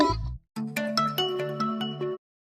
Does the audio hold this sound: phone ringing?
yes